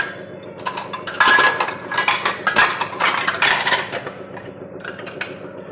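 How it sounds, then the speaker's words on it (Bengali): Ceramic plates bought at a fair being put away in a home kitchen, with a series of close clinks, knocks and rattles of dishes set down and stacked against each other. "সেদিন মেলার থেকে এই প্লেট দুটো কিনলাম না বারাসাতের, এগুলো এখন জায়গা মতো রেখে দিচ্ছি"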